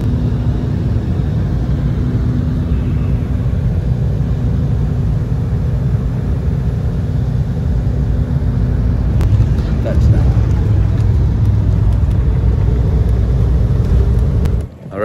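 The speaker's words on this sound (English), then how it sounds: "Touchdown. Arrived at the airport in Barcelona." A passenger airplane touches down at Barcelona airport, heard from inside the cabin as a loud, steady low rumble, with a thump and rising roll noise partway through that continues to the end.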